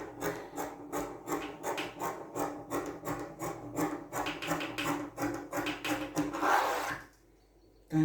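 Scissors trim blouse fabric in a steady series of rhythmic crisp snips and rubbing cuts, close up, about a dozen strokes followed by a short rustle and then near silence.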